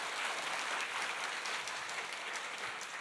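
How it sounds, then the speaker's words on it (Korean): A church congregation applauding together during a sermon at Full Gospel Daegu Church, dense steady clapping that fills the room for the whole stretch. "그 예수님께 영광의 박수 올려드리겠습니다."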